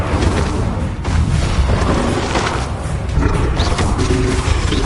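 Incendio fire spell cast in Hogwarts Legacy, a loud roaring whoosh with booming bursts that runs continuously over about five seconds.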